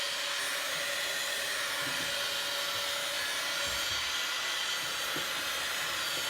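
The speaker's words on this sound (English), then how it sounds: "I'm using an embossing gun, which is not as hot as a heat gun." An embossing heat gun blows steadily over wet paint on a studio project, a constant airy whirring hiss that stays even and close throughout with no talking.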